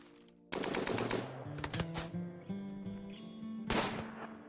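Rapid gunfire from the video game Rimworld, a dense burst of shots starting abruptly and running under tonal game music, with another loud burst near the end, no voices.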